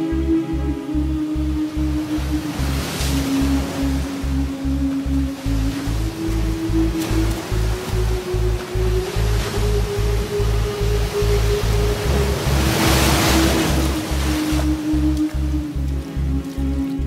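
Ocean surf rolls steadily onto a beach, a dense, continuous roar of breaking waves with rhythmic swells and no voices over it.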